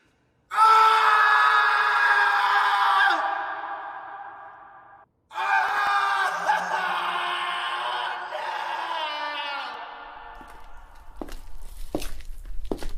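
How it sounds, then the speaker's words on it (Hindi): Painful screams ring out inside a dark mansion as a horror sound effect: two long, loud anguished cries, the second echoing, then tailing into scattered scraping noise. "अचानक किसी की दर्द भरी चीखें सुनाई दी।"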